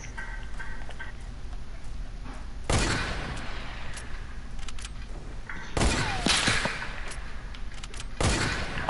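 Gunfire in a video game sniper battle, three sharp, loud shots spaced a few seconds apart over a low, steady background hum.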